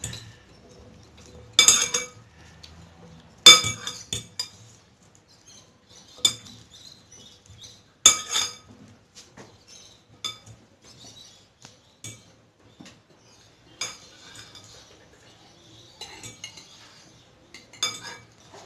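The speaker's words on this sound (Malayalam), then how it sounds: "ഇനി നമുക്കിത് നന്നായിട്ട് മിക്സ് ചെയ്യാം." A spoon mixing homemade tuna salad in a bowl, giving scattered faint clinks and scraping taps with sharper knocks every few seconds and quiet pauses between.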